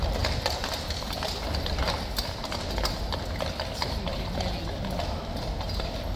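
Rapid, irregular hoofbeats of several Life Guards cavalry horses clatter on a hard surface, moving together amid steady crowd noise and faint voices.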